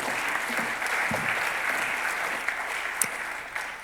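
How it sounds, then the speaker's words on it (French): At a hydrogen conference plenary session, the hall fills with steady, moderately distant clapping from the audience, with a few sharper individual claps standing out near the end. "Donc merci, on peut les applaudir."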